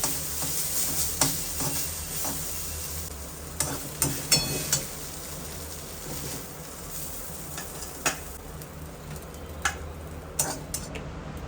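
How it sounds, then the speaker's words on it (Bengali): Vegetables frying in hot oil in a home kitchen give a steady sizzle, with sharp spatula taps and scrapes as they are stirred, some in quick clusters, and no talk. "ওই জন্য আমি এটা আগে একটু ভেজে নিচ্ছি"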